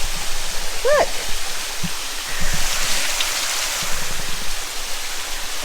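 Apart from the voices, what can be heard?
waterfall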